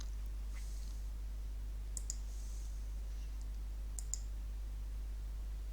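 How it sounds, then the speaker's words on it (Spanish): Two quick, faint mouse double-clicks in SketchUp sound over a low steady hum, spaced about two seconds apart. "Doble clic en él"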